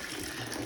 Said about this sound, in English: There is running water into the property from here.